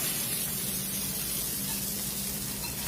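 A steady rush of water being splashed, a loud, continuous spray that fills the whole moment without a break.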